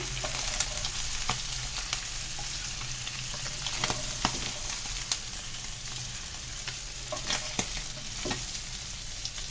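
Oil sizzles and crackles steadily, with scattered sharp pops as chicken pieces fry in a pan, close and moderately loud.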